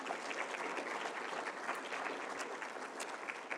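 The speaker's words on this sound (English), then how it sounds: "So let's give them a round of applause." Steady applause from an audience for debate team members and assistant coaches at a museum benefit gala, a dense, even wash of many hands clapping throughout, heard from a moderate distance with no voices over it.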